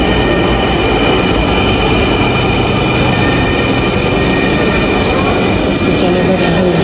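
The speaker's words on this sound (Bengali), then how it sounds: "এটা চলে আসলো ট্রেন আমাদের।" A commuter train pulling into a station in Dhaka, loud continuous rumble with squealing wheels and metallic screeching throughout, very close.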